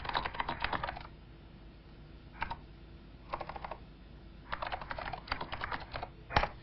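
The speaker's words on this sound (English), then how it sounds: "and I can type." Typing on a NeXT computer keyboard, bursts of quick close key clicks separated by short pauses, with one louder tap near the end.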